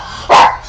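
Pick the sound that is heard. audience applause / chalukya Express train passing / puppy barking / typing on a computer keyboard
puppy barking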